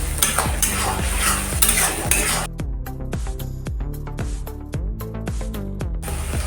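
Garlic paste and spice masala stirred and fried in a pan, a steady sizzle broken by repeated rhythmic scrapes and clinks of a utensil against the pot, close and continuous.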